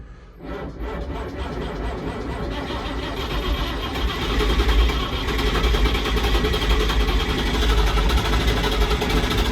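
Perkins diesel engine on a 1250 tractor cranking and catching, then running steadily with a dense, loud mechanical rumble that builds slightly and holds, nearby and alone without talk.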